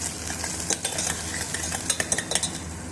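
Onion and green chili frying in a pan, with repeated clinks and scrapes of a spoon against the metal over a steady background hiss, close by and with no talking.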